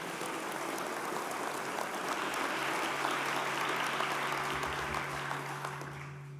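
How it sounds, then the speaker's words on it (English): Big round of audience applause at an annual meeting in Fairbanks, a dense, steady wash of clapping from a large crowd that fades slightly near the end. "Let's give them one more big round of applause."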